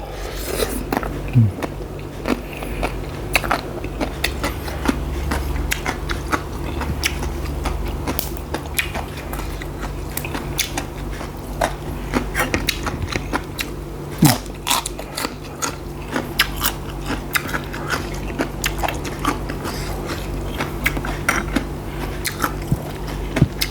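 Close, crisp crunching and wet chewing of Thai papaya salad with crab and fermented fish, steady bites and smacks continuing throughout with occasional louder crackles.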